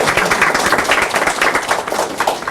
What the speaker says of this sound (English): let's give it an applause.